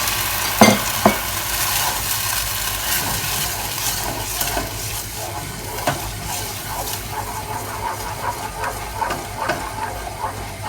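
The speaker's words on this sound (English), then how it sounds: "Now you're just going to literally bring this to the boil." A pan of melted butter, sugar and milk heating toward the boil for white chocolate fudge, giving a steady soft sizzle and hiss with faint stirring scrapes and a couple of sharper clinks near the start.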